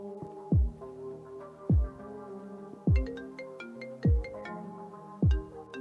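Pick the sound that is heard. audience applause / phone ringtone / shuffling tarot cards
phone ringtone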